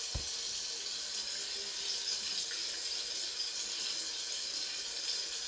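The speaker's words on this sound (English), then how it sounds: "So let's start this faucet sound and run the impulse again." A recording of a running faucet plays back for an audio classifier, a steady broadband hiss of flowing water that continues evenly throughout.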